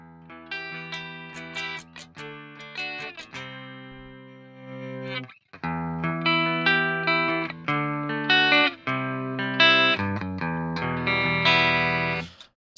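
An electric guitar is played through a Neural Amp Modeler PV5150 clean amp profile, ringing out clear single notes and chords in short phrases with brief pauses between them, close and dry, with no voices.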